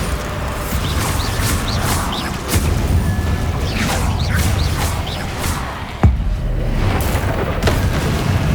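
Bombarda explosion spells go off in Hogwarts Legacy, booming blasts amid a loud, dense battle mix of whooshes and crashes, one sharp hit standing out near the end.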